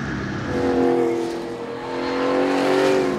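V8 Thunder Cars race cars roaring past on a Swedish circuit in tight racing, a loud sustained engine drone that swells, dips and surges again as the pack passes, no speech.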